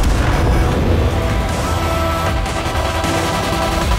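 Loud booming cannon fire from tanks in World of Tanks, with high-velocity shells fired, heavy and close, blending into rumbling battle noise.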